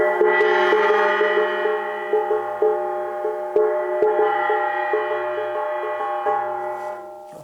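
A Korean shaman's drum is struck with a thread-wrapped stick, giving soft, rounded thuds in a steady repeated pattern under a sustained ringing tone, close and moderate in volume.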